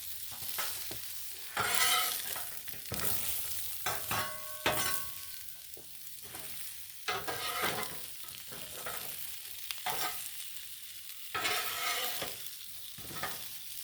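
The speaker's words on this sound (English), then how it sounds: "Let's give it a stir. Stir things up. I love veggies on the griddle." Vegetables sizzle steadily on a Blackstone griddle while a spatula scrapes and stirs them in repeated bursts, with a constant frying hiss running underneath.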